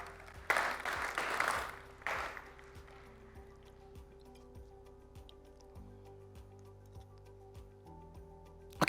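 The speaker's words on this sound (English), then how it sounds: "Claps for him." A short, faint burst of clapping from a conference talk audience greeting a co-founder, lasting under two seconds before giving way to a quiet room with soft ticking.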